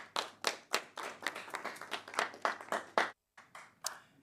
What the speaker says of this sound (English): Please give a round of applause to Professor Ajibewa.